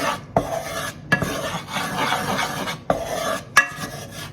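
Oil and flour being stirred together in a pan for homemade enchilada sauce, with repeated scraping strokes of a utensil and occasional sharp taps against the pan, fairly close and loud.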